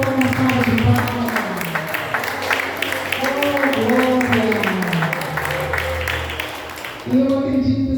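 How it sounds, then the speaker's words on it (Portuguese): Church congregation at a worship service applauding in praise, steady crowd clapping under prominent talking voices, moderately loud throughout. "Vamos louvar ao Senhor com uma salva de palmas."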